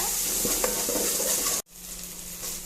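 Ginger garlic paste sautéing with onions in a pan for a Sunday chicken gravy gives a steady, close frying sizzle with a few light stirring scrapes, then breaks off abruptly and resumes a little quieter.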